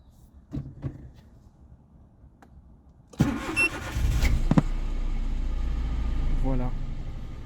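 A few faint clicks, then a Citroën C1 engine cold-starts on E85 ethanol, cranking and catching abruptly, settling into a steady idle hum that continues to the end.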